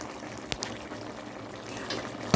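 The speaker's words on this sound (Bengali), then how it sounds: "একদম টকবক টকবক করে ফুটতেছে, হয়ে গিয়েছে" A pot of curry with flat beans, eggplant, potato and dried fish bubbles quietly at a simmer, with soft popping and a couple of brief splashy pops.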